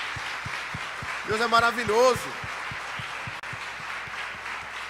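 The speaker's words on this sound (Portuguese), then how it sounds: "Vamos aplaudir esse Deus, irmãos" Church congregation claps in a steady, evenly spaced rhythm while someone speaks briefly over it, the regular beats continuing after his voice stops.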